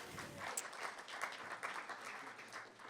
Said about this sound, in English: let's give a little round of applause